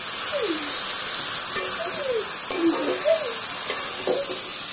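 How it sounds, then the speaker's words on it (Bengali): Jujube and tomato cook in hot oil with salt and green chilli for a sour dish, a steady loud sizzle with occasional stirring, while a faint voice rises and falls in the background. "এখন বড়ই আর টমেটো দিয়ে টক রান্না করতেছে, দিছে লবণ আর কাঁচামরিচ"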